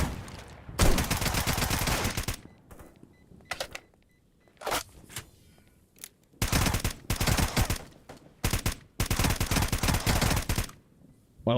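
Shotgun blasts fire in a video game in clustered bursts of loud, sharp reports, with short quiet gaps and a brief mechanical clatter between volleys.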